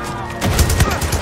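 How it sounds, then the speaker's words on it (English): Automatic fire from a machine gun in Far Cry 6, a rapid burst of loud, close shots starting partway through, over a steady game backdrop. "What is better than pistol? And better than rifle? Is machine gun!"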